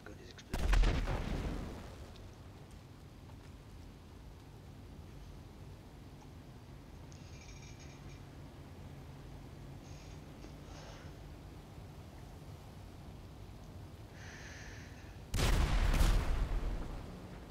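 Two loud bursts of video game explosions, one at the start and one near the end, with a low rumbling background and faint crackles between.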